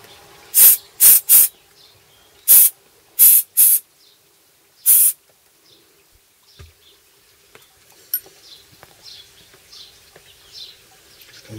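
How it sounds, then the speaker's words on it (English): Compressed air duster blasting a seized motorcycle brake: seven short, loud, sharp hissing bursts in quick groups over the first five seconds, then quiet with faint handling noises. "Maybe just blast it with a bit of compressed air."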